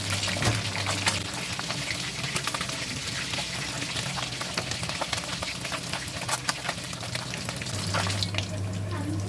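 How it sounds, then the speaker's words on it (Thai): Soft-fleshed fish frying in hot oil, with a steady, close crackling sizzle that runs throughout, crisping both sides. "น้ำมันร้อนได้ที่นะคะเอาปลาเนื้ออ่อนลงไปทอดนะคะ ทอดให้เหลืองกรอบทั้งสองด้านนะคะ"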